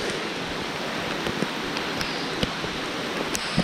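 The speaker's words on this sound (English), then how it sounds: "it's awesome to walk through the rain" Steady rain hisses all around while someone walks outdoors through a downpour, a broad wet wash with occasional small taps and drips close by, no talking.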